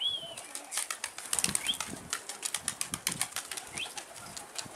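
Repeated wing flaps from tumbler pigeons taking off and flying close by, a busy irregular flutter with a few faint chirps, no talking.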